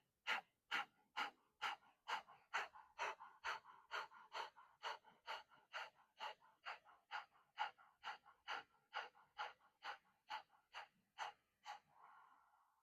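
Kundalini yoga breath of fire done through the nose with the mouth closed: a steady train of about twenty-five quick, sharp exhalations, evenly spaced and close, ending in one longer breath.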